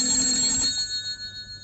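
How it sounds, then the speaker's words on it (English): A telephone bell rings once in an old radio drama, a bright metallic trill that cuts off and lingers briefly as it fades. "Then the telephone rang."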